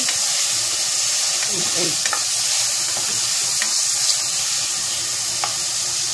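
Small onions sizzling as they fry in a pan for chicken with nopal, a steady, dense hiss throughout with faint clinks, and a voice speaking briefly.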